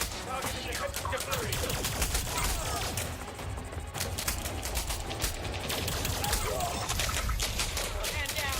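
Dense, nonstop bursts of rapid weapon fire in a space combat video game, loud and continuous across the whole stretch with a slight dip midway, while a voice calls out under the barrage.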